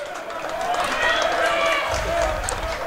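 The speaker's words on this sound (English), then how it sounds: "You can hear the crowd here in Demorest" Steady roar of a college baseball crowd in a stadium in Demorest during the bottom of the eighth inning, continuous and fairly loud with a play-by-play voice over it.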